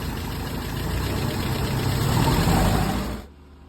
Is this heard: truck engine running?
yes